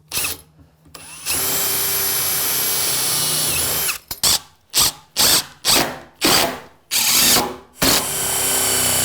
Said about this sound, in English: Then I'll put some screws in.